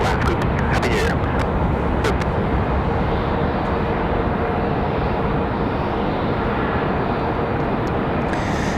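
A jet airliner roars through takeoff at Raleigh-Durham International Airport, a loud, steady broadband rumble heard from nearby, with brief radio chatter and clicks at the start.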